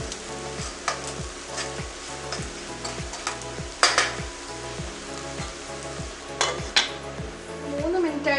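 Tomatoes cooking in a covered pan over a low flame for a crab roast, a steady soft sizzle with periodic scraping and stirring strokes and a few sharper clinks of a utensil.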